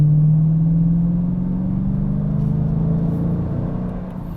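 A 2022 Dodge Challenger's rear-wheel-drive engine rumbles steadily from inside the cabin while driving, a deep low drone whose pitch rises slightly and then eases off as the sound fades toward the end.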